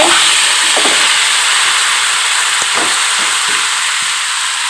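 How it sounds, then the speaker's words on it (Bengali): Elephant foot yam stalks fry in mustard oil over a tempering of dried and fresh chillies and bay leaf, giving a loud, close, unbroken hiss with a few faint clicks from the pan and no talking. "ফোড়নটা ভাজা হয়ে গিয়েছে মা এবারে এর ভিতরে ওলের ডাটাগুলো দিয়ে দিচ্ছে"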